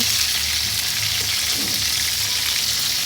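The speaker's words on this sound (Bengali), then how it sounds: "এবার এই পর্যায়ে শোল মাছগুলো আমি ভালো করে ভেজে নিব।" Snakehead fish frying in hot oil, a loud, continuous sizzle and crackle that holds steady throughout with no voices.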